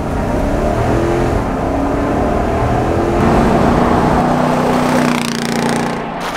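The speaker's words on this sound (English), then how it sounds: "we are going to have a listen to the factory exhaust with this ginormous muffler" A V8 car engine with factory exhaust and a large muffler idles and revs with a deep, rumbling exhaust note, rising and falling loudly and close by throughout.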